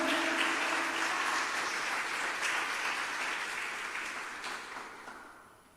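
Church congregation applauds in a steady wash of clapping at a moderate distance, fading gradually toward the close.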